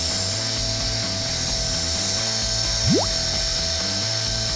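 A hot-air welding gun blows a steady, loud hiss while welding a split roofing pipe boot, with a faint low hum underneath and a brief rising whistle near the end.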